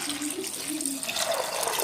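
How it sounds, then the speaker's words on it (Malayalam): Water is poured into a pressure cooker holding chopped vegetables, a short, steady splashing gush lasting about two seconds with no talking. "ആവശ്യത്തിന് വെള്ളം ഒഴിച്ച് കൊടുക്കാം"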